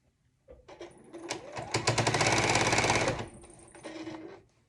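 Sewing machine stitching the front of a quilt, close and loud, ramping up to a fast steady whir for a couple of seconds, slowing, then a shorter burst at the end.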